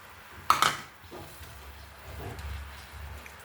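Grated coconut tips into hot jaggery in a pan with a sharp clatter and clink of utensil against metal, followed by quieter soft stirring and low background noise.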